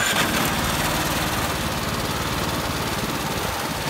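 A farm machine engine runs steadily and loudly up close on a tobacco farm in Miyakojima, Japan, with a buzzing, vibrating drone and no break for the whole stretch.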